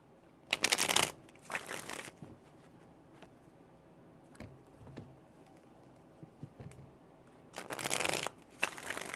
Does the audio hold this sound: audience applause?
no